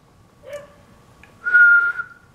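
A person whistles for a dog: a faint short whistle first, then a louder, sustained clear whistled note, alone against a quiet background.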